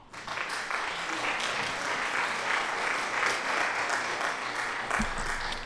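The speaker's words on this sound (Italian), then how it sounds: "questo è un applauso per voi" Applause from a crowd, a dense steady clapping that swells quickly and holds at an even level throughout, with a small thump near the end.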